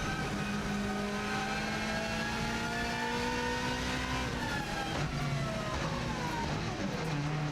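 A Subaru rally car on a record Isle of Man TT course lap, its engine a loud, continuous in-car roar with steady gear-by-gear pitch sweeps as it accelerates and shifts down, with no speech.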